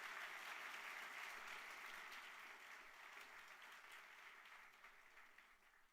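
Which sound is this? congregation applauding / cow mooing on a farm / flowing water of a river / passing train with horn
congregation applauding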